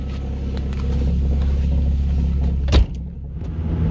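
Mazda Miata NA6 with stiffened frame rails driving, a steady close engine drone and road rumble throughout, broken by a sharp brief clunk near the end before the hum continues.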